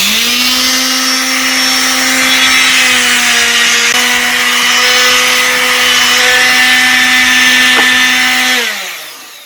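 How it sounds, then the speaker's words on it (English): A power sander works wood with coarse 60 grit sandpaper, a loud steady whirring drone with a constant pitch lasting several seconds before spinning down at the end. "I don't have any 80 grit, so I'm using 60, and that's pretty coarse"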